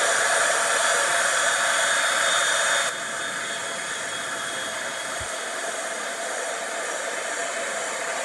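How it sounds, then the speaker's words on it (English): Heat gun blowing for heat embossing on a stamped card, a steady loud whooshing hiss close by that drops to a softer level partway through, with a small knock near the end. "So now plug your ears and let's get a heat embossing."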